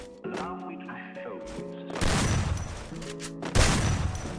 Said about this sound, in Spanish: vamos a probar con otras armas, ¿verdad? Ok, con los tiros.